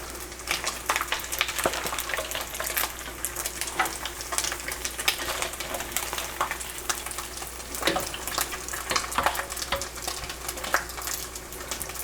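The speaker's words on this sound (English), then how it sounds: "Put the collard greens in the pot. Just toss them in there." Collard greens tossed into a hot pot sizzle steadily, with a continuous bright crackle and occasional clinks of the pot, fairly quiet and without talking.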